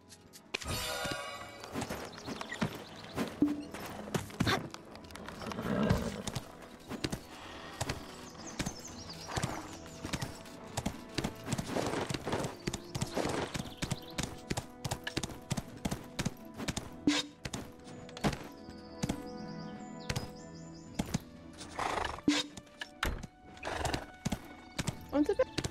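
Horses in the online game Black Desert, with steady hoof clip-clops and repeated whinnies over game music and effects, while several players chat throughout.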